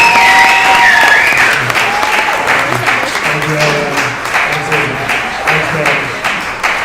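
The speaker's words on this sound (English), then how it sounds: "one more round of applause because we're about to see something special this year" Applause from a crowd at a girls' high school volleyball game at The Wildcat, heavy and sustained throughout, with a voice and some tonal sound over the start before the clapping settles into a steady roar.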